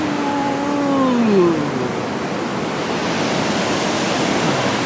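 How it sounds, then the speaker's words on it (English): Ocean surf on a beach with wet sand rolls in as a loud, steady wash of broadband noise that swells briefly, with a faint high tone drifting over it early on. "Right there comes a wave."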